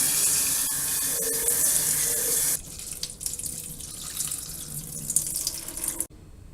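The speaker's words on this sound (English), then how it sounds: "So we're going to rinse, drain, and put it back in the bowl" Sprouts are rinsed under a running faucet, a loud, steady gush of water that drops to a softer splashing and trickle partway through, then stops abruptly near the end. The sound is close, with no talking.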